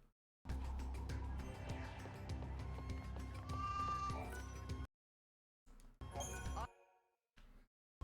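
Sheep bleating in Final Fantasy XIII-2, short cries over steady game music and chiming effects, with the sound cutting in and out in bursts.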